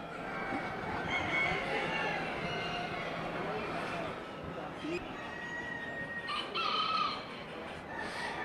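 Several chickens and roosters cluck and crow at the 2015 Northeastern Poultry Congress show in a busy, echoing hall, with a murmur of background chatter underneath.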